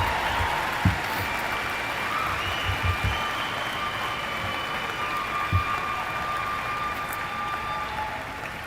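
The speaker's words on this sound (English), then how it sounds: "let's give our graduates one more big round of applause" A large audience at a secondary school commencement ceremony applauds in a long, sustained roar of clapping, with a few scattered cheers and whoops rising over the steady, rain-like wash.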